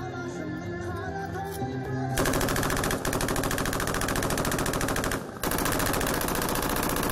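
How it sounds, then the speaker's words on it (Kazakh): Military firearms and a machine gun fire at an open day display held at a military unit. After a brief lead-in, loud, dense automatic bursts begin and roll on steadily with a short break partway through. "Бұл атыс қаруларына шыққан үн жаудың үрейін ұшырып"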